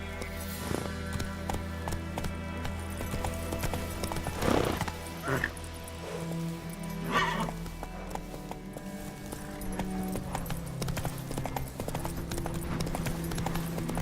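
Roach the horse gallops through a video game world, a steady clip-clop of hooves running throughout with an occasional whinny, set against a continuous game soundscape.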